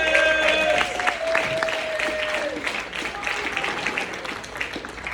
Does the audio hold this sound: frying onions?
no